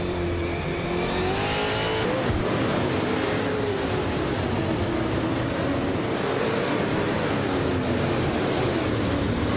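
Racing cars roar continuously in a video game race, engines revving and shifting pitch as the pack runs tight, with occasional tire squeal, loud and steady throughout with no talking.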